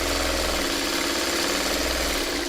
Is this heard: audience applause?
no